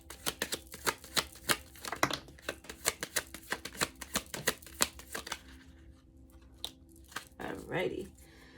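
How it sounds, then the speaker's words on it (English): Cards are riffled and flicked in quick crisp bursts of papery snaps, close by, trailing off into a brief soft shuffle near the end. "Why do I feel like the way I'm shuffling is wrong?"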